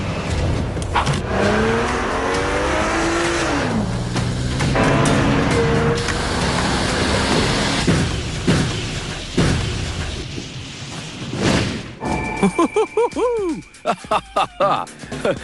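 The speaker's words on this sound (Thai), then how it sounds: "ผมขับรถชนมันจนหลุดออกจากฐาน" A car revs and drives into a fuel dispenser, its engine rising and shifting in pitch before heavy crashing impacts, followed by scattered clanks and ringing metallic sounds, with a voice talking over parts.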